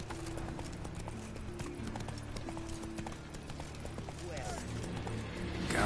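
Horse hooves clip-clopping steadily for Roach, the horse in The Witcher 3 video game, a continuous rhythmic plodding with occasional snorts, joined by a voice speaking.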